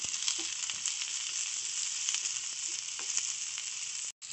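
Onions frying in a little oil in a pan for an avarekalu (hyacinth bean) sambar: a steady close sizzle with faint stirring scrapes, running alone and dropping out briefly near the end.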